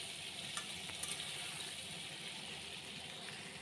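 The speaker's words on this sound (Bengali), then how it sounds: "আলুগুলোকে একটু ভালো করে নাড়িয়ে দিতে হবে।" Potato chunks frying in a pan for kosha aloor dum give off a steady, soft sizzle with faint scraping as they are stirred, quiet and continuous with no talk.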